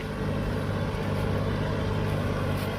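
A steady, loud engine drone with low rumbling, continuous throughout, from a tractor with a rotary tiller churning a muddy rice paddy close by.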